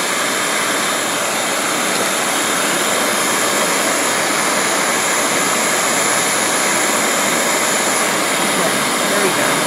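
Heat gun roaring loud and steady at close range, a continuous blowing rush heating a painting to loosen a stuck surface, with no break across its length.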